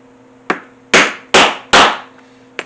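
A hammer strikes a rivet setter to set rivets on a knife sheath lanyard: a light tap, then three hard, ringing whacks in steady rhythm, and a final light tap, loud and close with no talk.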